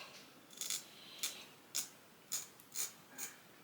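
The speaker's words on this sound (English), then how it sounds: "So I'm just roughly cutting out my shapes." Shears snip through copper sheet while shapes are cut out for earrings, giving six crisp, faint metallic clicks at a steady pace, close and alone in a quiet room.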